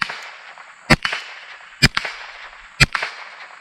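Three sharp cracks from a Ruger 10/22 rifle, each followed closely by a metallic ring as the round strikes a steel MGM popper target outdoors, evenly spaced about a second apart with no talking.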